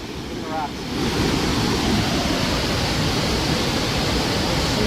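Loud, steady rushing of a river drain outflow close by, a broadband roar that swells after the first second and holds, with a brief voice heard at the start.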